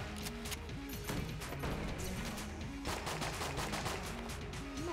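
Video game gunfire from a trank gun in Enter the Gungeon, with rapid repeated shots and electronic effects over game music, steady and moderately loud throughout.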